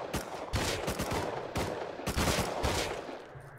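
Bursts of rapid gunfire in a video game sound in quick clustered volleys, fairly loud and close, separated by brief pauses.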